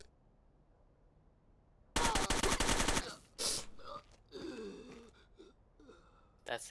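Rapid automatic gunfire in the Rainbow Six: Vegas 2 shooter game, a dense burst of about a second, then scattered game sounds and a short gasp-like noise.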